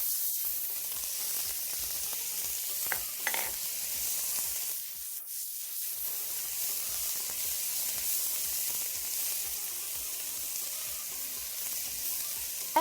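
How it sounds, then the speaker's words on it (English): Onions and carrots sautéing in butter, a steady, faint hiss of frying that runs throughout with a few brief utensil taps and no voices. "And here's the butter. Let's start sauteing well."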